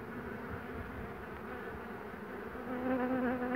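Dense, steady buzzing of many agitated honeybees close by at an open hive, swelling louder near the end, with no voices.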